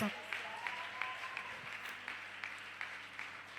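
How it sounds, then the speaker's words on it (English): A church congregation claps hands for Jesus in a steady rhythm, soft and somewhat distant, with a voice continuing underneath. "We may clap hands for Jesus."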